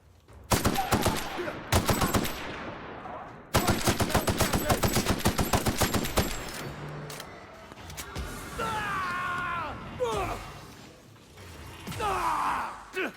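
Automatic gunfire rattles in The Outer Worlds, several loud rapid bursts in the first half, then fading into game effects and whooshing sounds.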